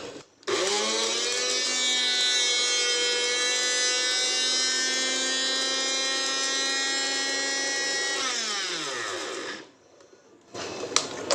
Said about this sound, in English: So I have grind the elaichi for 45 seconds.